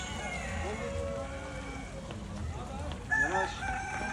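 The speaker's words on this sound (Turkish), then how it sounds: "Burada horozlar, tavuklar." A rooster crows amid a busy, noisy zoo yard with hens and other fowl, fairly faint and distant under a steady background hum.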